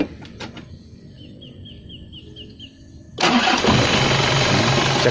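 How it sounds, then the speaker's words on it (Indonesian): An Isuzu Panther Royale's engine cranks and catches, settling into a loud, steady idle after a quiet stretch with a few chirping birds and light taps in the background; the car has just covered a long nonstop drive. "Sekarang kita dengarkan mesinnya dan kita lihat untuk mesinnya masih sehat atau tidak."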